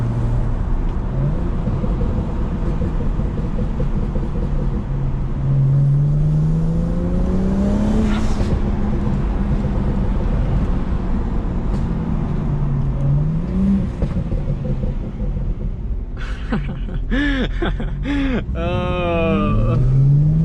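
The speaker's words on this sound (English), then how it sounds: "Hit a little downshift so you can hear the burbles." A BMW 335i with an MHD backend flash drones loudly from inside the car, rising and falling through gear changes, then a downshift brings a run of crackling, popping exhaust burbles near the end.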